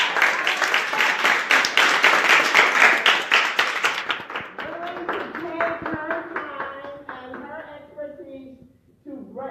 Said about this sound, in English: I think we ought to give Ms. Evans a round of applause